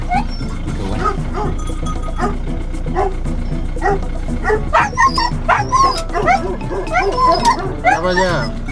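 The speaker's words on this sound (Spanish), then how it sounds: "Mira el perro cómo espanta las ovejas para que pase yo" A dog barks and yips repeatedly while herding sheep outdoors, the barks irregular and fairly close, with people talking over a constant rumble of background noise.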